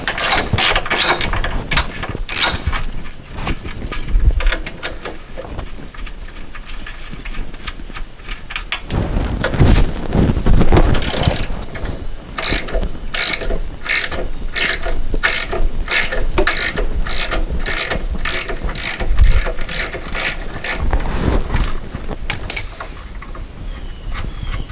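A ratchet wrench loosens 15 mm nuts on the front radiator bracket of a GMC Acadia, with rapid clicking runs, brief pauses and then long steady stretches of fast ratcheting, close and loud.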